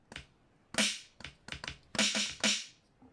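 Akai XR20 drum machine playing its built-in samples, a sparse run of crisp, snappy percussive hits in an uneven rhythm, fairly quiet and close with no talk.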